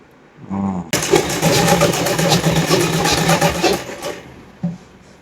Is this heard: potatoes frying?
no